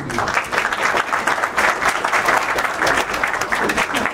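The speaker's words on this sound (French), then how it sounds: "Je vous remercie d'être venu encore une fois, applaudissez." Sustained applause from an audience at a football tournament presentation, dense and even clapping that fills the whole stretch at steady loudness with no talk over it.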